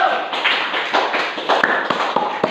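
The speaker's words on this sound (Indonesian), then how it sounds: "Kita beri aplaus untuk kelompok 1." A group of students in a classroom applauds a performing group with steady hand clapping throughout, close and fairly loud.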